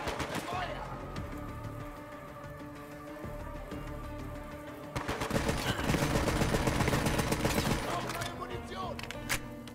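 Rapid video game gunfire in Borderlands 3, dense bursts of automatic shots with a quieter stretch before a louder barrage in the second half, under a player's voice.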